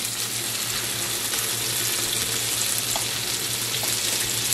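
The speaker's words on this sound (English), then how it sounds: "We're going to lay the first patty down." A burger patty hits a hot griddle and sizzles in a steady, loud, even hiss that holds unbroken throughout, with no talk over it.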